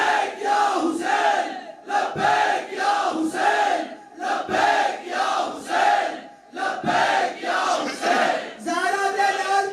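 A large gathering at a religious assembly calls out in unison again and again, loud rhythmic waves of many voices chanting in response, each burst rising and falling in steady repetition.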